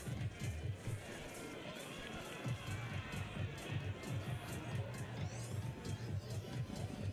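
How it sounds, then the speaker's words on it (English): Crowd noise fills an athletics ground during a Night of 5s evening meeting, a steady broad murmur with rhythmic thumping underneath, moderately loud and continuous without clear talk. "We're hearing some quite good noise around the ground now."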